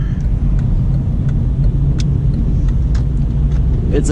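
Steady low interior road rumble from a Honda Civic four-door sedan on the move, a loud continuous drone with faint ticks and rattles above it and no voices.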